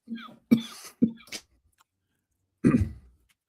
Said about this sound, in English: while you cough, I hope you recover